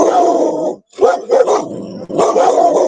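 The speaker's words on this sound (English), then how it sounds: "You might hear my dogs barking." Dogs bark loudly in repeated bursts, with a brief pause in the middle before the barking picks up again, close and continuous.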